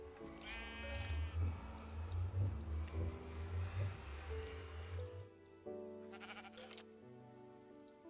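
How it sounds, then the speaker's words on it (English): Minecraft sheep bleat several times in a row, wavering nasal cries close by, with a few softer game sound effects following near the end. "Hi, sheep."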